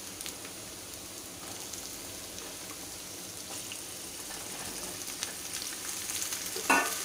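Pumpkin and vegetables fry in oil for a sweet-and-sour kaddu sabji, giving a steady, even sizzling hiss throughout, with a few faint clicks near the end.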